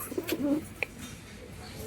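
Caged Bazi pigeons, a mated pair of flying pigeons, give soft cooing calls close by. A brief sharp click follows in a quiet room.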